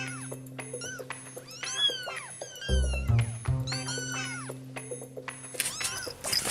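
Several foster kittens meow repeatedly and overlapping, high-pitched rising and falling cries close by, with a low hum underneath and a brief louder burst of noise near the end.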